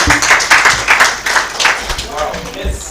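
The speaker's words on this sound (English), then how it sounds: "let's clap harder than that" A symposium audience applauds, a dense crowd of hands clapping in uneven bursts that rise and ease off, with a voice speaking over part of it.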